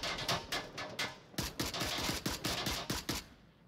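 Rapid bursts of automatic gunfire in the VR shooter Onward during a competitive league match, crackling in quick uneven volleys at moderate distance, with no talking over them.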